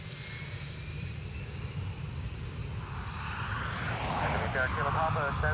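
An airliner begins its takeoff roll on a runway at Dublin Airport, a steady broad engine roar that slowly swells louder across the clip, heard from a distance, while a radio voice talks over it.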